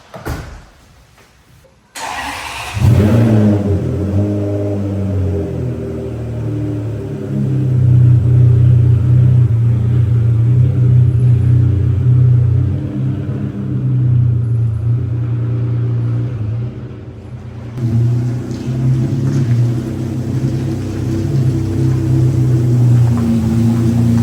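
Ferrari 599 engine firing up after a short click, then a steady deep idle and low rumble that swells slightly as the car is moved to a new parking spot, close and loud throughout.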